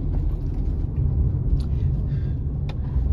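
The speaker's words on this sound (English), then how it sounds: "there's a cement truck." Cement truck passing on a road as a low, steady engine rumble close by, with faint higher noises and a voice talking over it.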